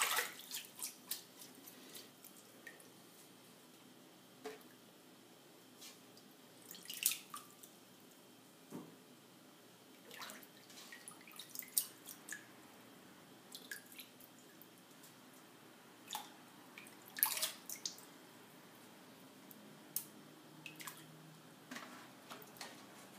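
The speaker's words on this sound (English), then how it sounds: "I suggest that you clean or wash your greens 4 to 5 times" Mustard greens being washed in water make soft, scattered drips, splashes and squishy handling noises, quiet and close, with brief louder sloshes at irregular intervals.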